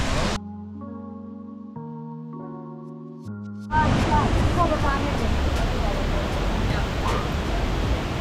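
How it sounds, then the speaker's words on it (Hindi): Neer waterfall near Rishikesh, heard as a loud, steady broadband roar of falling water that swells in after a few seconds of voiced, tonal sound at the start. "हम नील झरना जो है पहुंच चुके हैं।"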